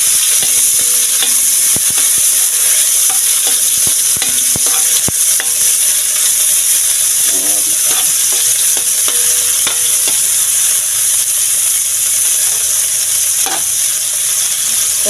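Tomatoes sizzling and frying in hot oil in a pan for a budget home-cooked dish: a loud, steady crackling sizzle throughout, with occasional stirring scrapes and clinks near the microphone.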